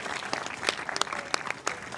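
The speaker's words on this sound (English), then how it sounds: "A round of applause for Adam Stone, Dekel, Steve Deakin, and Matt Wright." Spectators at a PPA pickleball gold medal match in Florida applaud the winning doubles pair, a modest, fairly sparse round of clapping with distinct individual claps standing out, moderately distant.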